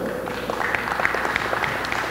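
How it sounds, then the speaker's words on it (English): Applause at a formal programme launch as trainee engineers' names are read out, a steady moderate patter of many hands clapping, somewhat distant and continuous throughout. "I will ask you at the end of the names to give them a round of applause"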